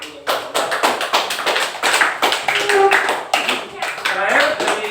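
Classroom of students clapping for a presenting group, a lively burst of many hands applauding close by, loud and continuous for several seconds with a few voices mixed underneath.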